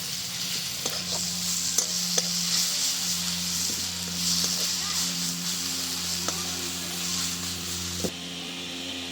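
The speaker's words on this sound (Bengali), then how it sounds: "এবার সব কিছুকে খুব ভালো করে কষিয়ে নেব।" Chicken with turmeric, salt and Kashmiri chili powder sizzles steadily in a pan. A spatula taps and scrapes at irregular intervals throughout, close and clear over the constant frying hiss.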